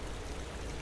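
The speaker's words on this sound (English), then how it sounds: "The rain's patter weaves through the silence" Soft rain patters in a steady, even hiss, faint and continuous with no distinct drops or voices.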